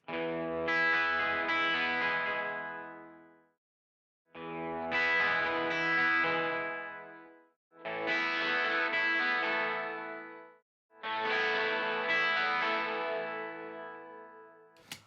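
A raw 12-string electric guitar, unprocessed and without EQ, rings out in four long chord swells separated by short silences, shimmering and sustained.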